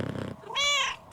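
A cat in the video game Book of Hours gives a short, clear meow-like purr that rises and falls once, loud and close, after a brief burst of rustling.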